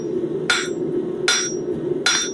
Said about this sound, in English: by only hammering on the one side, you are actually expanding out in all 4 directions